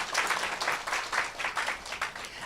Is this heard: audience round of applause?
yes